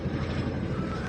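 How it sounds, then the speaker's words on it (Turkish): A steady, loud helicopter drone with rotor chop, sustained throughout without any voices. "Helikopter geçiyor."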